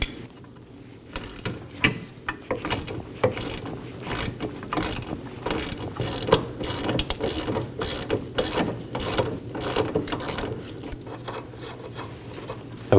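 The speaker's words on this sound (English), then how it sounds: "I'll be using a ratchet on the nut side and a wrench on the bolt side." A ratchet loosens a 15mm sway bar end link nut on a 2018-2024 Chevrolet Equinox, with close repeated ratchet clicks and metallic rubbing in irregular bursts, moderately loud and without talk.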